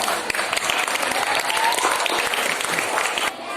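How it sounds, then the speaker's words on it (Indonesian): Dense, loud audience applause at a national-awareness talk for students at SMK Muhammadiyah 2 Samarinda, filling the hall evenly before tapering off abruptly near the end. "Tepuk tangan untuk kita semuanya."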